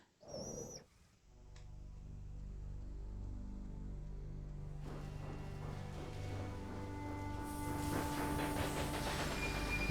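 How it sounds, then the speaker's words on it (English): A sugar freight train rolling along in the Railway Empire game, a steady low rumble with droning engine tones that grows busier and louder, preceded by a brief sharp sound at the start. "There's our sugar train."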